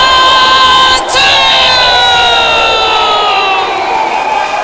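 A loud wrestling crowd roars and cheers in an ovation, a dense, sustained wall of voices with shrill whoops and screams on top and no break across the whole stretch.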